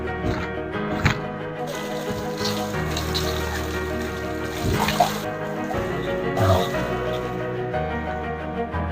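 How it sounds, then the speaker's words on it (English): Waterfall in the grounds of Chatsworth House, a steady broadband rush of falling water filling the whole stretch, with a few louder surges and tonal background music running underneath. "This is the waterfall."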